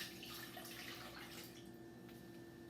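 Water poured from a container into a bowl of lemons and sugar for lemonade, a soft continuous splashing pour lasting a couple of seconds, fairly quiet and alone.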